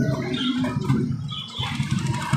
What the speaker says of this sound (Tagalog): Ayun pa rin yung mga ibon niya mga kalapatids oh.